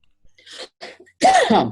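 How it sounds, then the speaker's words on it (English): A few soft bursts of breath lead into a single loud, close cough, abrupt and throaty. "Sorry, I had to cough."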